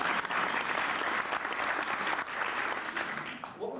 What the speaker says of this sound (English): A warm round of applause for our volunteers.